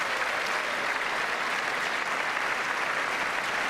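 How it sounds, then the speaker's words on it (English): A large audience applauds during a State of the Union address, an even wash of many hands clapping, steady and moderately distant throughout. "why are we applauding every 30 seconds?"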